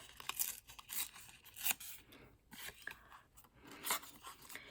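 Paper being torn by hand for a book collage, several short ripping bursts with soft crinkling between them, close and quiet, with no talking.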